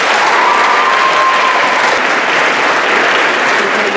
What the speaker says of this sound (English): please join me in giving our amazing founder, role model, and dear friend, Dr. Jacqueline Elliott, a warm CCMS round of applause